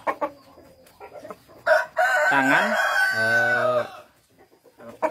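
A rooster crows loudly and close by in a long, drawn-out call, with brief clucking, in a setting where prized chickens are handled and groomed. Someone talks quietly before and after the crow.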